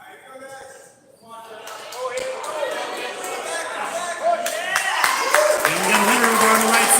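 Crowd at a kids' armwrestling event clapping and cheering, building gradually in loudness, mixed with voices, shouts and a few sharp knocks and thuds.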